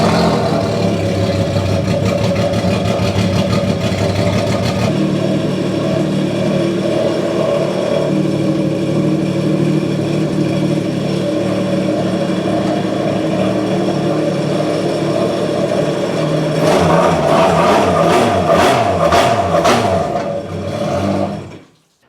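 A Yamaha TR-1 Superjet jet ski engine idles steadily on its trailer, warmed up, with a continuous droning hum that briefly revs with sharper pulses near the end before cutting off.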